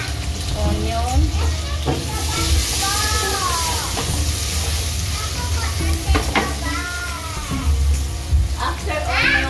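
Onion drops into a frying pan of browned garlic for sinigang na salmon sa miso, loud constant sizzling with stirring scrapes while someone talks over it.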